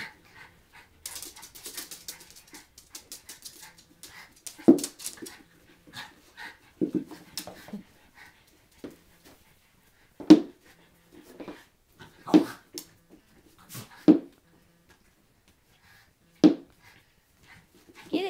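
A Schipperke dog whimpers and pants close by, with short soft breathy bursts and a few sharper whines scattered through, at a quiet indoor birthday party with no talk.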